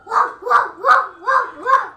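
People imitate a dog barking as a punishment in a family game, giving five evenly spaced, loud, close woof sounds in a steady rhythm.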